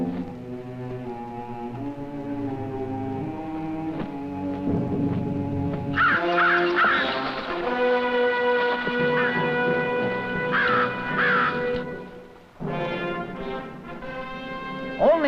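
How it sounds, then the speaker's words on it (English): Several crows caw repeatedly in harsh bursts, some overlapping, against a sustained tonal drone in the background. "in the trees ahead, the crows should provide a ready-made alarm system."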